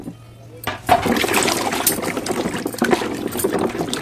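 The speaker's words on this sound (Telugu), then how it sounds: "ఇలా ఒక బాండీ అయితే తీసుకుని వాటర్ అయితే యాడ్ చేసుకోండి క్యారెట్ అయితే కడిగేసుకుందాం" Water poured into a pan for washing carrots in a home kitchen, a steady splashing and trickling stream that starts suddenly and runs on, close by.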